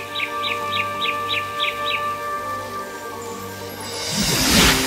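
Small birds chirp in a Filipino fairy tale: a short run of evenly spaced, bright tweets over a steady background, followed by a rising rustle of noise at the end.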